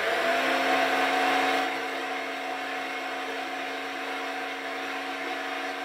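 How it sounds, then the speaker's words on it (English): A Cookworks electric coffee and herb grinder grinding coffee beans gives a loud, steady motor whine close up, slightly heavier at first and then settling to an even drone, with no talk. "I'm going to grind that a bit more."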